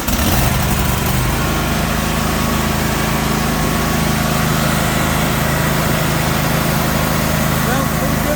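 A Husqvarna LGT 2654 riding mower fitted with a new ignition coil catches and runs, its small engine droning loudly and steadily at close range after a brief start, under the whole stretch.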